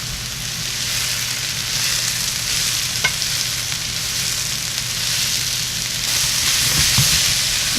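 Mushrooms fry in a hot pan with a steady, loud broadband sizzle that holds evenly throughout, with an occasional stirring scrape near the end.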